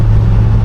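A 1968 Chevrolet Impala convertible with a two-speed Powergrade automatic accelerating at around 45 mph, giving a loud, close, steady low engine rumble with no talking over it.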